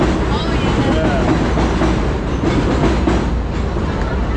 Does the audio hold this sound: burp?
no